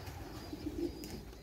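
Domestic pigeons coo softly in a low, brief burble, close by against a faint background hum, with no talking.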